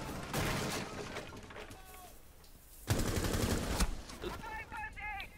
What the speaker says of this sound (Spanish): Es que fue un disparo.